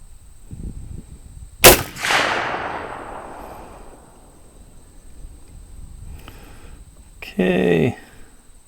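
A rifle firing 400 Legend ammunition outdoors, with one sharp loud shot followed by a long decaying echo, then a shorter burst later, and speech in between.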